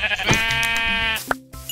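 Sheep bleating in Minecraft, a wavering nasal bleat lasting over a second, with a second short bleat following after a brief gap, close and clear with no talk.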